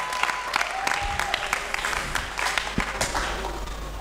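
Congregation applauding the mothers during a church sermon: dense, sustained clapping from a crowd fills the room, with scattered sharper claps throughout and a faint voice underneath.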